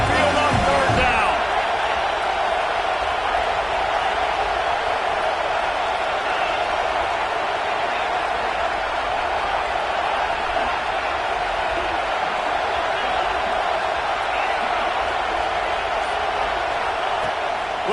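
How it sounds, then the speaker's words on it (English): A huge Alabama Crimson Tide stadium crowd roars on third down on Saban Field against Oregon, a dense, loud, unbroken wall of noise lasting the whole stretch after a brief sharp burst at the start. "The Tide crowd roaring noise down on the Saban Field on third down."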